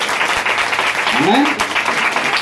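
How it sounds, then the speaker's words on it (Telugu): Church congregation clapping loudly and steadily during a fasting prayer service, a dense continuous wash of applause with a voice rising briefly over it. "కమాన్, గట్టిగా చప్పట్లు కొడుకు దేవాదేవుని మైండ్ పడతారు"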